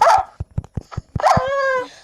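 Dog barks in the Minecraft video game: a rapid series of about eight short, loud barks, followed by a higher, drawn-out whine or whimper at the end.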